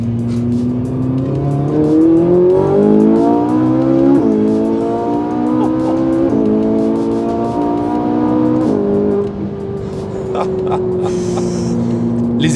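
A Ferrari 458 Italia's V8 pulling hard through several upshifts, its engine note climbing in pitch and dropping at each gear change, loud and close before settling to a steady cruise.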